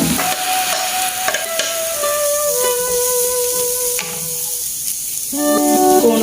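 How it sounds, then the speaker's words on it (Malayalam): Capsicum and carrot sauté with softened onion in a hot pan for an enchilada filling, giving a loud continuous hiss and sizzle, with a few brief ringing tones over it. "നമുക്കിതിലേക്ക് ക്യാപ്സിക്കും ക്യാരറ്റും ചേർത്ത് വെക്കാം."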